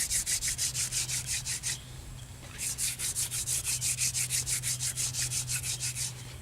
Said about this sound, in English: all I'm doing is I really just want to make sawdust right now.